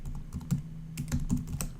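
Quick keystrokes on a computer keyboard while entering code, a steady run of close, crisp clicks with no talk over them.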